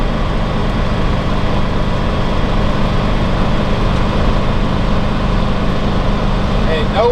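A 2004 Winnebago Adventurer 35U Class A motorhome with an Allison transmission pulls uphill under extra throttle, its engine a steady, loud low drone with road and cabin noise, unbroken throughout.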